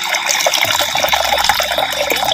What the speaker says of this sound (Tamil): வெள்ளை சுண்டலை அவிக்கிறதுக்கு தேவையான அளவு பச்சை தண்ணி சேர்த்துக்கிறேன்